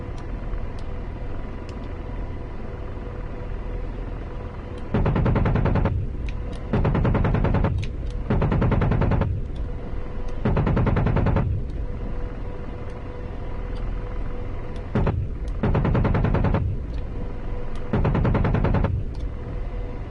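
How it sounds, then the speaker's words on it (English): Helicopter cannon bursts from an AH-64 Apache in the combat flight simulator DCS World, six or so short thudding bursts of rapid fire spaced a second or two apart over a steady engine and rotor drone. "We gotta fire some weapons here."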